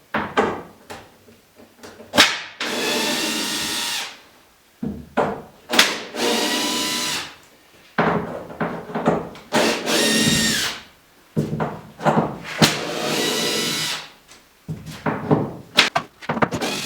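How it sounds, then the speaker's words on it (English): A power drill runs in repeated bursts of whirring, backing screws out of a PT11 build, with short pauses and knocks between each run. "Okay, time to take the screws out."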